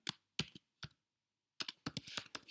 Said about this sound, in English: there's nothing wrong with me typing commands again